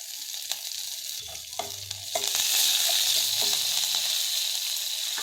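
Chopped curry leaves and coriander hit a hot oiled pan for a neem flower gojju, setting off a steady close sizzle with scattered clicks of stirring, growing louder and fuller partway through.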